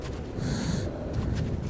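Heavy, labored breathing of a character in the video game Metro 2033, a close snorting and gasping rhythm of breaths with raspy hiss, steady and loud throughout with no talk over it.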